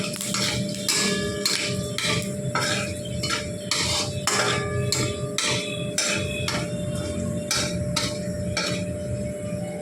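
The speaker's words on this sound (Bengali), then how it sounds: "এবার শুকনো লঙ্কা আর পাঁচফোড়নটা ভালোভাবে তেলের মধ্যে নেড়ে নিচ্ছে" Dry red chillies and five-spice seeds get stirred in oil left from frying hilsa, with a spatula striking the pan in quick, rhythmic metallic clanks over a low background sizzle, no talking.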